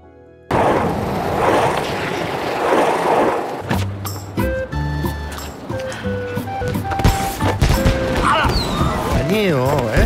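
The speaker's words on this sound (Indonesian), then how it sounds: "Letusan kembang api di sana membuat Sim Chung merasa ketakutan" Fireworks burst by the Han river in a drama scene, a dense crackling barrage of booms and pops with music and a voice layered over the noisy, loud explosions.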